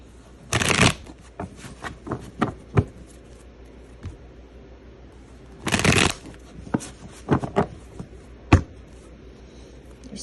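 A deck of tarot cards is shuffled close by in two long riffling bursts, each followed by scattered soft taps and flicks of the cards being squared and handled, with quiet pauses between.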